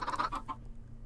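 Chickens clucking in the Minecraft video game, a few short bursts of cackling close together near the start, fading out after about half a second.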